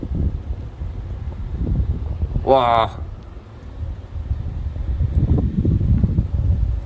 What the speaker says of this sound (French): Rafale de vent et neige.